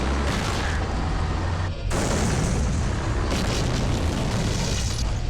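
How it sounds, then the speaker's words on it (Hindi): Artillery shelling in a Kargil war scene along the Line of Control: loud, dense rumbling booms and blasts roll on continuously, with a brief dip before the barrage surges again. "ये अपनी फौज के स्वागत में तो बड़ी गोलाबारी कर रहे हैं भाई"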